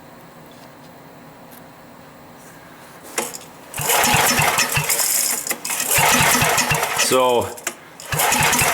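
A vintage Pincor generator is pull-started several times with sputtering, uneven bursts of engine noise. A short speech-like sound is heard before the first pull, and the dirty-carburetor engine never settles into a clean idle.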